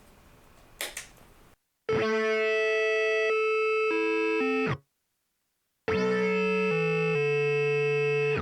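After a short burst of noise, a buzzy electronic tone from a PLL guitar pedal's divide section drops in stepped jumps to lower pitches, goes silent, then descends in steps again.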